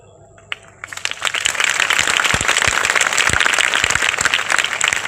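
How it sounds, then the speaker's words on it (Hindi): An audience breaks into loud, dense clapping after a brief quiet start, building quickly and holding as a steady, close wash of applause with some voices mixed in. "लेकिन आपको भी पता है ये ताली अपलाइन के लिए काफी कम है"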